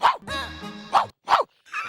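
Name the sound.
person imitating a dog barking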